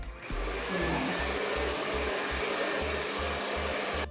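Hair dryer blow-drying hair during a bouncy blowout, a steady close whooshing roar with a faint rhythmic pulsing as the airflow moves, no talking.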